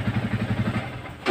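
A Yamaha Vixion motorcycle engine runs just after a kick start, with a quick, even chug of low pulses that fades toward the end. The sound is fairly quiet and close, with no talk over it.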